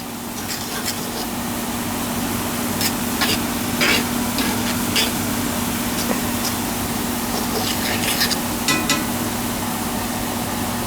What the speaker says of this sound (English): venison smothered in bacon grease, cooked in bacon grease